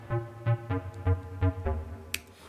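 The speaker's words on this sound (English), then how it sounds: "bass, synth bass, FM pulse bass. So it sounds like this." An FM pulse synth bass in Logic Pro plays a steady pulsing line of seven short, buzzy notes with a rich harmonic edge, followed by a brief bright click at the end.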